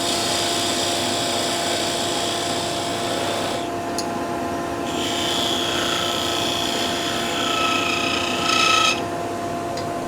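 A parting tool side-scrapes spinning wood on a lathe while patio skittles are turned, producing a steady, loud, continuous whirring hiss with a faint motor hum that holds nearly unchanged throughout.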